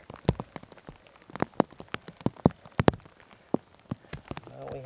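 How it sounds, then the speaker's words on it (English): Rain falls on an outdoor campfire site, with scattered heavy drops striking a nearby surface in irregular, sharp taps over a faint background hiss. "Now we have more rain."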